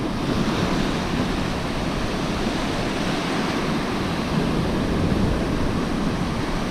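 Surf rolls onto a beach at night on the UK coast near Eastbourne, a steady dense roar of breaking waves mixed with wind noise, continuous and fairly loud with no distinct breaks.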